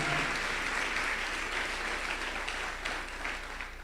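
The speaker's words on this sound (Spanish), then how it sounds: "dale fuerte el aplauso al Señor" A church congregation applauds steadily and fairly loudly throughout, a dense continuous wash of many hands clapping together that fades slightly near the end.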